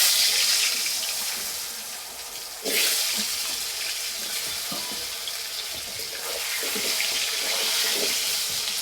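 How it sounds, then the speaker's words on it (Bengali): New potatoes tossed with salt and turmeric fry in oil in a wok over low heat, giving a steady close sizzle that swells into a louder burst partway through and stays bright to the end. "আলু ভাজার জন্য কড়াইয়ে তেল দিয়ে দেবো।"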